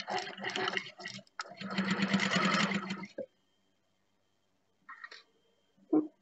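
A sewing machine stitches through a stadium scarf near its metal zipper, running close and loud in two long bursts before falling silent, followed by a few faint handling clicks.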